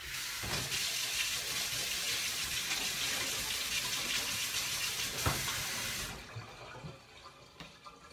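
A kitchen tap runs steadily during a rinse, a close broadband rush of water that stops near the end, leaving faint clinks and handling sounds.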